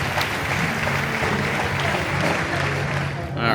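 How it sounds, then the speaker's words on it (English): Standing ovation from a crowd, a dense, loud, continuous roar of clapping that holds evenly throughout and dips only slightly near the end. "Insert standing ovation round of applause sound effect here"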